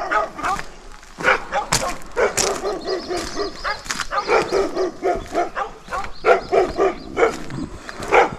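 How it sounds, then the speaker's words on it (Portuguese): A dog barks and yips repeatedly in the open near a dam area after a major flood, the calls fairly close and mixed with outdoor background noise. "Tem um cachorro ali."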